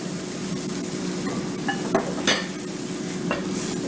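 Tomatoes go into a hot pan for a Sicilian eggplant pasta sauce. A steady sizzle runs throughout, joined by several short stirring scrapes and clinks near the middle, close and alone with no talk.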